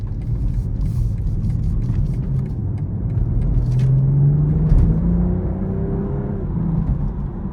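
A 2023 BMW M440i Gran Coupe RWD pulls away gently, with a steady low engine rumble and a smooth rising whir as it gains speed, heard from inside the cabin with no talking.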